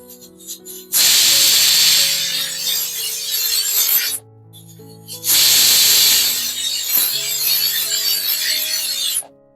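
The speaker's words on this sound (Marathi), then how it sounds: "आता इथे कुकरचे 2 शिटी मी काढून घेतलेली आहे लो टू मीडियम फ्लेम वरती." Pressure cooker whistling on a gas stove over a low to medium flame: two long, loud, hissing steam whistles, each lasting about three to four seconds with a brief quiet gap between them.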